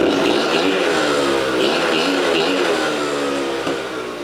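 A 1990s Honda Cub EZ90 mini bike engine runs without its airbox, loud and close from the carburettor side, holding a steady, raspy idle that eases off slightly at the end.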